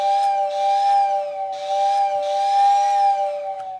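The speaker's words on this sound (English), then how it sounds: "I've got the Lionel whistle tender down on the floor." A Lionel model train whistle tender sounds steady, close harmonic tones in two long blasts with a short gap, airy hiss over the pitched whistle notes, loud and alone.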